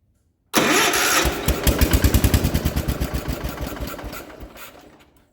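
A barn-found 1967 Gravely 430 tractor engine cranks over in a rapid, loud chugging burst, then sputters in uneven pulses that gradually slow and fade as it fails to catch.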